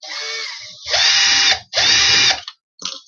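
A fairly new handheld electric drill whose chuck is not gripping correctly whirs up in two loud bursts of about half a second each, then a short final blip, close to the mic.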